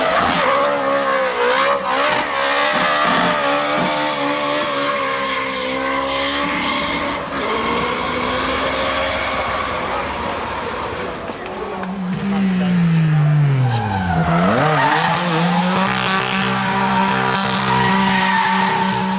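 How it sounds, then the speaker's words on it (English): A drift car at the Goodwood Festival of Speed 2019 slides sideways with long, wavering tire squeal over a loud revving engine. The screech bends and swoops as the car changes angle, close and continuous throughout. "Then we have the drift car of James Dean, Piotr Witzik, and all sorts of drifters"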